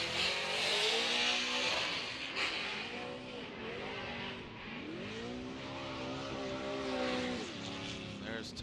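Chevrolet Camaro drift car on Hankook tires roaring through a corner at a Formula D event in Texas, engine note rising and falling through several shifts, loud and sustained with tire noise, a commentator talking over it.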